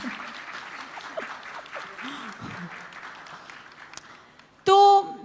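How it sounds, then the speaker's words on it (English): Audience applause fills a web entertainment festival hall, steady and broad beneath a mix of voices, then gives way to a sudden loud tonal burst near the end. "please give them a second round of applause"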